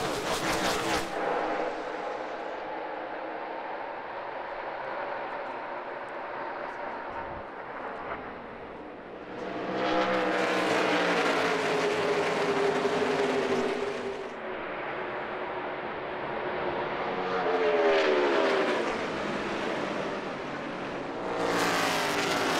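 NASCAR Cup Series race cars roar through a race start at Phoenix Raceway, a loud droning pack of engines that swells as the field thunders past, fades a little, then builds again in repeated surges.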